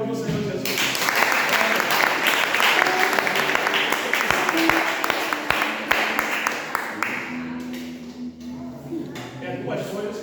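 A church congregation applauding in response to a preacher, dense sustained clapping and crowd noise for most of the stretch, tapering off near the end as a voice resumes.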